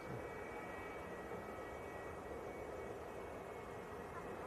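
An EasyJet airliner arrives at Manchester Airport. A distant, steady jet engine rumble and whine runs the whole time at low level, with no speech.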